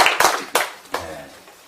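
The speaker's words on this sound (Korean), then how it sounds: "이호태 박사님 여러분 박수로 환영해 주셨으면 감사하겠습니다" A small audience claps to welcome a speaker at a Korean internet and democracy forum, a few sharp claps in quick succession that fade out within two seconds.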